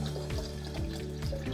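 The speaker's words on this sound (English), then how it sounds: "And then we're gonna top this one with a lemon lime soda." Lemon lime soda poured into a pitcher of sangria made with brandy, a steady close fizzing, trickling stream of liquid that runs without a break and with no voices.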